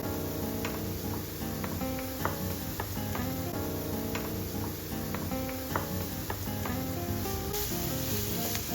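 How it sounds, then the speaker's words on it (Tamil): Shredded cabbage sautéing in a hot pan for a vegetable sandwich, a steady close sizzle with scattered stirring clicks and scrapes running throughout, no voices. "இப்போ நெக்ஸ்ட்டு கோஸு, இதையும் நல்லா போட்டு வதக்கிடுங்க"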